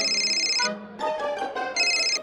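A phone ringtone plays in clear electronic tonal bursts, pausing briefly and then ringing again, loud and alone with no talking over it.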